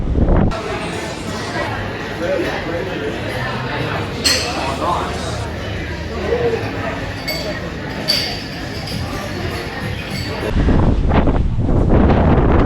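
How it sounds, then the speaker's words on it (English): Strong coastal wind on the Gold Coast buffets the microphone in continuous rough gusts, with occasional light clinks and voices faintly mixed in. "the wind has really picked up now"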